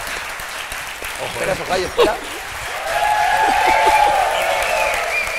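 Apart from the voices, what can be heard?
audience applause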